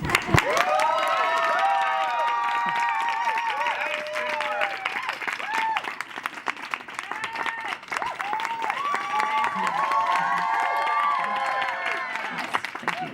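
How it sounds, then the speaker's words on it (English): A live stage-show audience claps steadily while whoops and high cheering voices rise over the clapping, a lively sustained ovation with scattered shouts throughout. "Can we get a round of applause, please?"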